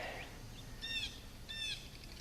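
Wild birds call faintly from outdoors with two short bursts of high chirping roughly half a second apart, over steady broadband background hiss.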